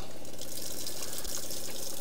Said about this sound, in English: So I'm going to turn a tap on now.